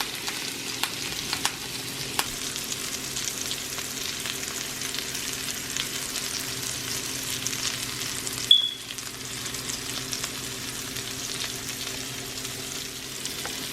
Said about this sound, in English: our steak has been pan searing for 5 minutes